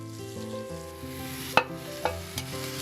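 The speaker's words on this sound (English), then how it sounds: "And now we're just going to let it simmer away." Root vegetables (celeriac, rutabaga, carrots, parsnips, onions and garlic) simmering in a pot in a historic-style kitchen; a steady soft hiss and bubbling with a few light clinks, under a sustained tonal hum.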